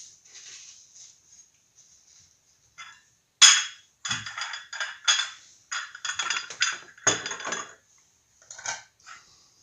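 Dishes and cutlery clinking and clattering as a breakfast table is set in the breakfast room of a bed and breakfast in Finland, with china from flea markets; nearby, irregular bursts of knocks and clinks with short pauses between them.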